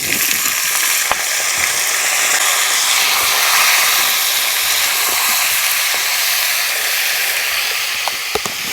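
Young jackfruit pieces sizzling in hot oil in a pan after potatoes were lightly fried, a steady, loud, close hiss with a few small pops and clinks.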